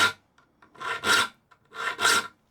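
A hand saw clamped in a hardwood saw vice is worked in two paired rasping strokes, a filing scrape repeated in rhythm, close and dry with no ringing vibration.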